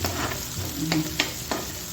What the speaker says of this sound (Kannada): ಒಂದೇ ಒಂದು ಈರುಳ್ಳಿನ ಸಣ್ಣದಾಗಿ ಹೆಚ್ಕೊಂಡಿದ್ದೀನಿ ಅದನ್ನು ಈಗ ಒಗ್ಗರಣೆಗೆ ಹಾಕ್ತೀನಿ